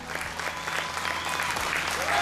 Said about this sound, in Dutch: Het zal een daverend applaus zijn.